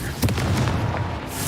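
A Confringo fire-blast spell erupts in Hogwarts Legacy, a single dull boom rumbling out with a sustained crackling burst that lingers briefly at close range.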